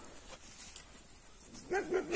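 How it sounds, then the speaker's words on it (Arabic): Dogs guarding a goat herd at pasture bark in two quick, fairly close bursts near the end, after a stretch of quiet outdoor ambience. "كيسمع الصوت ديال الكلاب"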